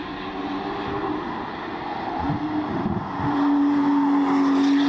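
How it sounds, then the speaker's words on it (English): A Porsche 911 GT3 RS prototype test mule with a muted twin-turbocharged flat-six drones steadily, its engine note swelling louder and rising in pitch as it accelerates toward the end. "The powertrain driving this mule is much more muted than one of Porsche's naturally aspirated engines and sounds more similar to one of its twin turbocharged 6-cylinders"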